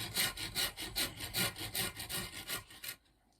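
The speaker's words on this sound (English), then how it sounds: "if you're still with me after all that scraping, scratching, and carrying on" Rasp scraping and shaping a wooden stock for a black powder caplock rifle, about ten steady rhythmic back-and-forth strokes, close and loud, then stopping abruptly near the end.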